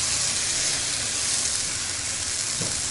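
Egg sizzling in a pan with tomato and briefly fried vegetables, a steady close hiss of frying that runs unbroken and fairly loud throughout, with no talking.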